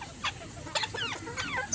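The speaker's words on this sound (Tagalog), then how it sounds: "Ganyan pong manok namin sa probinsya," Native chickens in a backyard in the provinces cluck in short, repeated calls, close and moderately loud, over a faint background rumble.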